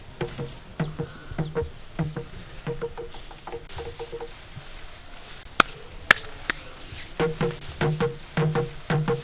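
An Ikoro, a traditional Igbo wooden slit drum, sounds in a series of sharp, hollow knocks in uneven clusters, some loud and some fainter, against a quiet outdoor background.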